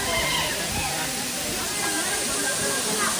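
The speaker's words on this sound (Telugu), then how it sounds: "Water falls." A trekking-trail waterfall with low water flow, a loud, steady rushing roar that fills the whole stretch without a break, heard close by.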